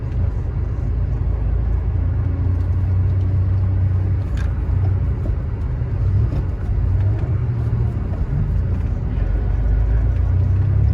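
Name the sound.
air-cooled Porsche 911 driving in Manhattan, gear shift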